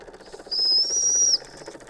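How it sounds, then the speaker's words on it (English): A small whistle on a live steam stationary engine sounds one steady, shrill, high toot of under a second over soft background hiss and mechanical chatter. "I actually heard that little whistle echo."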